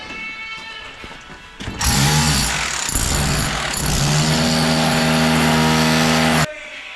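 A power tool cuts a large hole into a plaster wall to fit an electrical box during a palazzo restoration in Salento, Italy, its loud, steady grinding whine starting after a short lead-in and running several seconds before cutting off abruptly.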